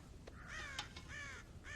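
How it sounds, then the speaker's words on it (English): Crows in the video game Red Dead Redemption give a string of harsh, raspy caws, several short calls spaced irregularly over a quiet outdoor background. "God damn crows!"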